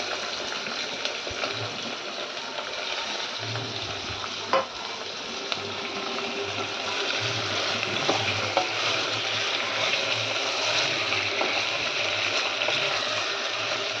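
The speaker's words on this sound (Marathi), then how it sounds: "एक मिनिटभर भाज्या परतून घेऊया" Vegetables, onion and tomato sautéing in a pan for pulao, a steady sizzle with stirring scrapes running throughout at a constant moderate level, no talk.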